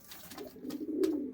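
Pigeon of a fancy breed cooing in a short, low, throaty call. It is close and moderately loud, with no talk.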